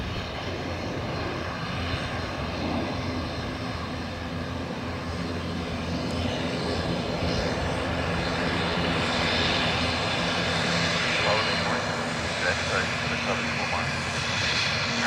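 A Ryanair jet airliner lands on runway 28L at Dublin Airport, its engines producing a loud, steady roar that holds level throughout.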